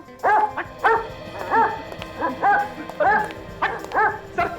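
A dog barks repeatedly at close range in a series of sharp, evenly spaced yips and woofs, about a dozen in quick bursts, with a faint background hum.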